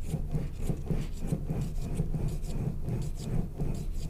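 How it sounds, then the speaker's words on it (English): A wooden rolling pin rolls clay back and forth across dowel rods, giving a steady, close rubbing rasp with soft repeated scraping strokes and no talk over it. "That is the sound of the rolling pin going across the dowel rod."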